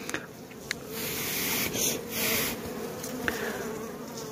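Honey bees buzz steadily and close at an open beehive with a laying worker problem, a dense continuous hum with a few individual bees passing near.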